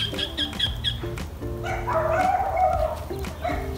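Dogs bark near a home lawn, a few sharp yips and woofs mixed with whiny cries over a steady noisy background, fairly close and moderately loud.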